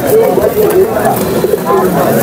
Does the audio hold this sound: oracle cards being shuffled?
no